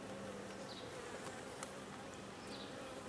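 Honey bees buzz steadily around an open hive during an inspection, a dense close drone with individual bees passing near.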